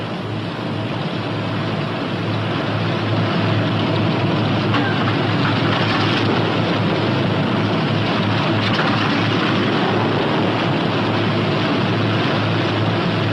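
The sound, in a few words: P-61 Black Widow aircraft engine running at idle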